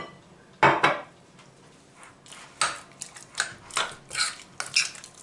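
A spoon scrapes and clinks against a dish as ingredients are mixed, with a few loud knocks and then a run of rhythmic stirring clatters in a quiet kitchen.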